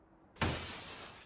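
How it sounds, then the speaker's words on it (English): Glass shatters suddenly with a loud, sharp crash, followed by a bright, sustained spray of breaking shards that stays loud to the end. "Lucifer is cut short by the unmistakable sound of shattering glass"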